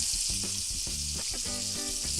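Gyro burger patty sizzling in a pan alongside red onion slices, a steady bright hiss of frying with some low clattering kitchen sounds underneath, close and continuous, no talk.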